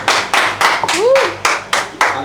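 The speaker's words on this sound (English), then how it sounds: "Round of applause for King." Rhythmic handclaps, about eight regular claps, for a contestant after a cooking contest judging pound-yam and soup dishes, Men versus Women, with a voice briefly heard underneath.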